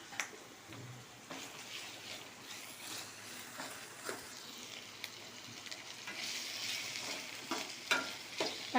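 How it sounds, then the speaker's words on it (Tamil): Tomatoes sizzle and crackle in a pan as they are sautéed after onions for a village-style spicy chutney, with repeated stirring scrapes and clinks over a steady frying hiss that grows busier toward the end, close by and fairly quiet. "தக்காளி சேர்த்துட்டு நல்லா வதக்கணும்."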